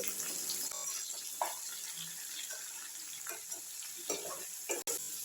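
Raw banana pieces with salt sizzle steadily in a frying pan while they are stirred, a continuous hiss broken by soft scraping strokes and a few clinks, with no voices.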